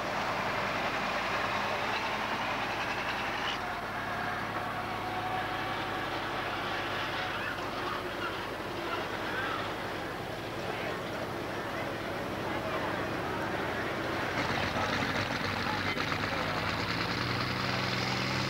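A John Deere pulling tractor at a 1987 NTPA tractor pull in the USA gives a sustained distant engine roar with steady crowd and arena noise, while a commentator talks over it.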